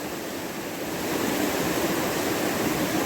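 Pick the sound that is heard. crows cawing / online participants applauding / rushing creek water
rushing creek water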